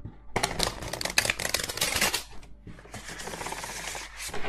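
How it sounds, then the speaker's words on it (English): Close, rapid riffling and flicking of tarot cards being shuffled in quick bursts, a pause, then more softer shuffling. "let me shuffle."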